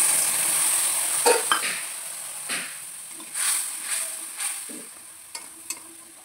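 A sour prawn dish with ripe tamarind and radish sizzles steadily in a pan, with occasional soft clinks and scrapes of stirring over the constant close frying hiss.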